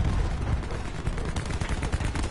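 Shotgun fire in the Black Ops 4 beta video game, a quick series of loud, punchy shots packed closely together over a short stretch, close and dominant with no talk.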